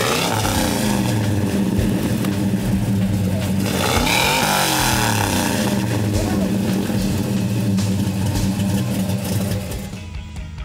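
A Chevy street rod engine at a small-town show and shine revs hard and loud nearby, rising in pitch around the middle and holding a strong roar before easing off at the end.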